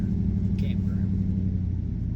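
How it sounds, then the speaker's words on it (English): A car rumbles steadily as it drives back around past a closed campground in Great Sand Dunes National Park, Colorado, a low continuous engine drone heard from inside a vehicle while people talk. "That's why this car is coming back around."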